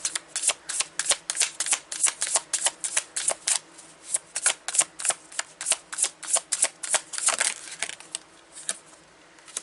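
Tarot cards being shuffled and handled up close, a long run of crisp, rapid riffling bursts in a steady rhythm that eases off near the end.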